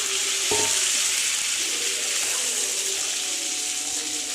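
Prawns slide into hot oil for a chilli prawn dish, giving a steady, fairly loud hiss and sizzle, with a brief clatter near the start.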